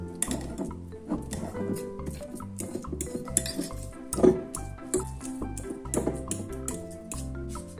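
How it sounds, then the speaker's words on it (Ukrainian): Half an avocado being mashed in a bowl, a run of wet, rhythmic squishing and scraping strokes with occasional clinks of the utensil on the bowl, close and fairly loud. "Беремо половинку авокадо та добре його розминаємо."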